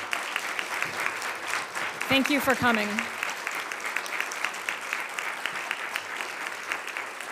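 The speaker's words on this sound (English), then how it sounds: "How about a round of applause for our speaker today?" Sustained audience applause at a National Press Club luncheon after a speech by the Penn State president, a broad, even wash of many clapping hands, with a brief spoken thank-you over it partway through.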